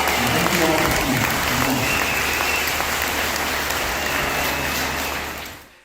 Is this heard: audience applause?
yes